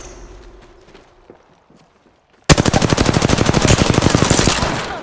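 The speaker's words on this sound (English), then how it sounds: "Getting shot at." Rapid automatic gunfire from Apex Legends bursts in loudly after a quiet stretch, a fast, even rattle of shots that continues without pause to the end.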